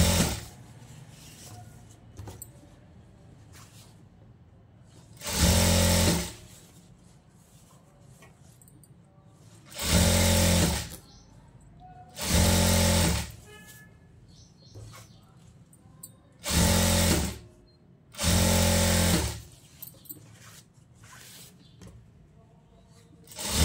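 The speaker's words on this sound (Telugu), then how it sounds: "స్ట్రైట్ కుట్టు వేసేద్దాం" Sewing machine running a straight stitch on a silk blouse, in five short bursts of close whirring separated by quiet pauses and light handling.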